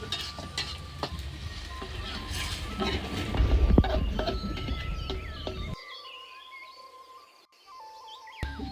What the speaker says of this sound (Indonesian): Tomatnya digoreng dulu